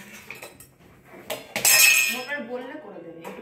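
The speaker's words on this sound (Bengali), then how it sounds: "এত বাসনের আওয়াজ করো না, আস্তে করো না, আস্তে বাসনের আওয়াজ করো।" Dishes and utensils clatter in a home kitchen: light clinks, then a sharp, loud burst of metal and glass, followed by a voice speaking close by.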